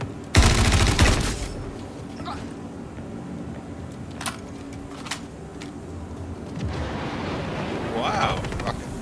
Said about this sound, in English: Rocket going off again.